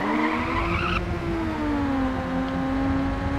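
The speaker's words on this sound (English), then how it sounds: "Hopefully we can surpass him with this drift here." A car drifts in the racing game Ridge Racer Type 4, its tires screeching in a sustained high squeal over a steady engine whine, loud and continuous throughout with no voices.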